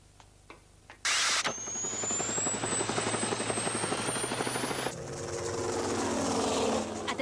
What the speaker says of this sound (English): I'll fire up the helicopter.